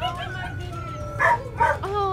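A puppy gives two short, high yips close by, one after the other, while people chat and laugh over steady background noise.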